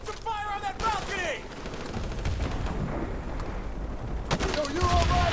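Gunfire aimed at a balcony during a battle in Call of Duty: Modern Warfare, a dense rattle of shots under shouted voices and game sounds, loud and continuous for several seconds.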